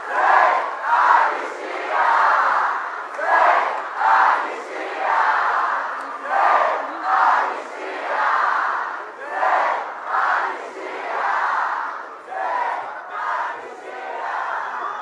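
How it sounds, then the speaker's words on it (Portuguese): Left-wing student militants at a Universidade Federal Fluminense event with Lula chant loudly in unison against amnesty, a dense crowd roar pulsing in a steady rhythmic cadence throughout. "Apesar do barulho, uma manifestação organizada pela militância de esquerda contra a anistia"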